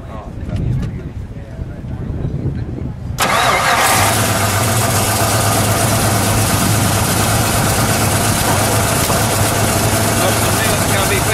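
A 1968 Dodge Charger R/T with a 426 Hemi V8 cranks over and fires, then settles into a loud, steady, rumbling idle close by, with voices talking quietly before the start.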